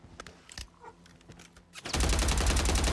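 Gunfire in the video game Warzone 3: a few scattered shots, then a loud, sustained burst of rapid automatic fire that fills the last second.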